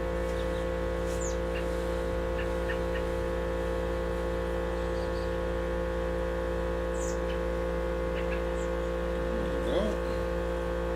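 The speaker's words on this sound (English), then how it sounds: "To apologize for my neighbor's air compressor." A neighbor's air compressor runs as a steady, droning hum with a constant tonal buzz through the whole stretch, with faint bird chirps scattered over it and no break in the motor.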